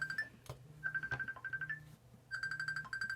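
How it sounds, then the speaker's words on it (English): A mobile phone rings with a bright, tinkly electronic melody that repeats in short looping phrases, close and clear, with brief gaps between the bursts. "It's my son ringing me."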